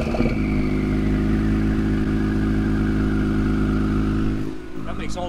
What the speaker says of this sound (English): let's get a quick sound clip, let you hear some turbo noises.